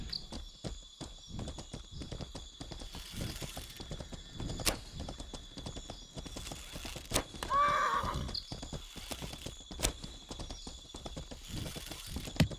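A horse in a jungle-themed video game gives a whinny partway through, surrounded by scattered hoof clops, clicks and mechanical ratcheting at a low, quiet level, with no talking.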